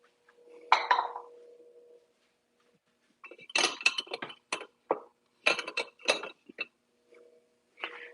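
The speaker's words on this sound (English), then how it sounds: "I'm going to start sauteing." A pot and utensils clink and clatter as sautéing of veggie chili begins, a couple of close, sharp metallic knocks and scrapes separated by quiet gaps, with no voices.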